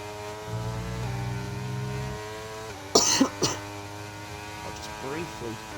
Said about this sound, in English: I'll just briefly clear my throat there.